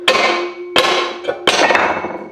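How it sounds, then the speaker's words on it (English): Three heavy metal strikes ring out as a poorly welded crankcase part is hammered to knock it off, each clang loud and close with a ringing tone that decays between blows. "just hit it over here and see if it breaks off"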